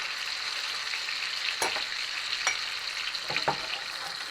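A ribeye steak sears in butter in a cast iron pan, giving a steady, close sizzle with a few brief clinks of a utensil and no talk.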